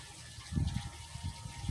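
Water pours and gurgles steadily into a container for a bee watering fountain, a soft continuous splashing with small bubbling pulses, close by.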